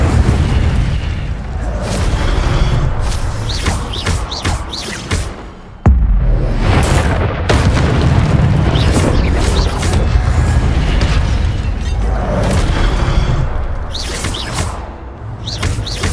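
An Incendio fire spell blasting in Hogwarts Legacy gameplay, with loud booming bursts and roaring rumbles that continue almost nonstop, broken only by a brief dip partway through.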